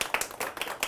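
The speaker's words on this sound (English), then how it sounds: "Let's give her a huge round of applause, you guys." A studio audience applauds a woman named Karen as she is invited up, a short burst of scattered, fairly quiet claps.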